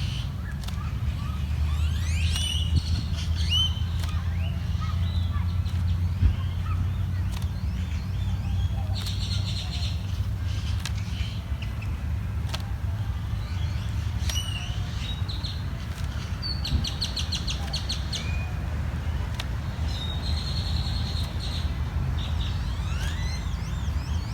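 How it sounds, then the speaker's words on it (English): Birds chirp and call repeatedly outdoors, bright twittering scattered throughout over a steady low rumble of background noise. "And the birds are out today. They are really chirping and being loud."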